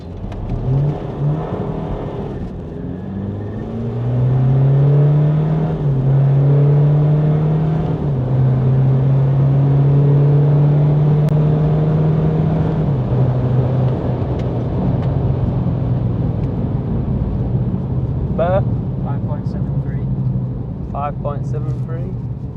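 BMW 430d with the N57 diesel pulling hard in a drag race against an M4, a steady rising engine drone and road roar building after launch and holding loud for most of the run, with a driver talking over it.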